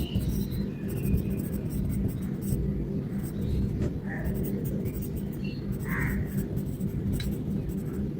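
A pen scratches across paper in quick, faint strokes while a lumbar plexus diagram is drawn and labelled, with soft intermittent scribbles close by under a steady low background hum.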